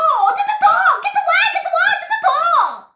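A storyteller's voice imitates a crow's strange call with wavering, squawking and warbling high-pitched cries, close and loud, trailing off at the end.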